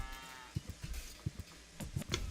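An enraged bull in the video game Deponia gives a few short, low snorting grunts and moo-like calls, spaced irregularly and fairly close, with no speech over them.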